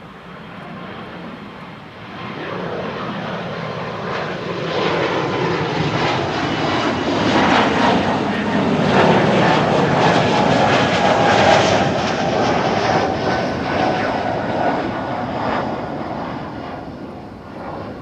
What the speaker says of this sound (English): the airplane taking off.